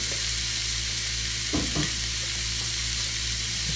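Ground beef frying in a pan, a constant loud sizzle with a couple of brief scraping stirs midway, close up and with no talk.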